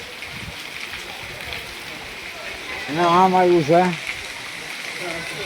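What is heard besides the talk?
steady rain falling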